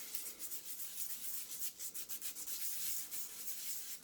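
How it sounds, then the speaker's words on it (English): Steady scuffing of a shaving brush handle, abraded all over to roughen it before a knot is glued in; continuous close, raspy rubbing strokes with a brisk uneven rhythm, no talking. "Just try to scuff it up. Get a little scratches throughout."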